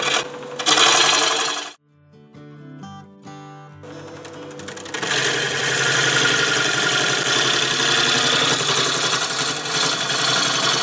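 A wood lathe spinning around 680 RPM while turning a catalpa live edge bowl gives a continuous whirring hum, broken early by a brief quieter pause with tonal rattling before the steady loud drone resumes.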